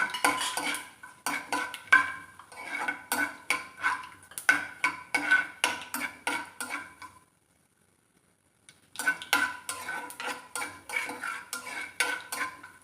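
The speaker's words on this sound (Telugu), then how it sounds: "జీడిపప్పు వేయించుకుంటున్నాను" Cashews roasting in a pan as a spoon stirs them, a quick run of clinking metal scrapes and taps that stops for about two seconds and then starts again, near and fairly loud with no talking.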